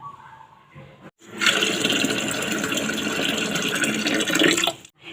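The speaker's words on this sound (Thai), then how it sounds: "เสร็จแล้วเราจะเติมน้ำให้ ท่วมตัวถั่วนะคะ แล้วนำมาต้มค่ะ" Water pours steadily into a pot of overnight-soaked peanuts being topped up for boiling, a loud continuous gushing lasting about three and a half seconds after a quieter start, stopping abruptly near the end.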